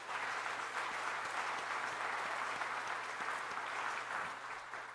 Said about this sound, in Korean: 우리 박수 한번 드립시다.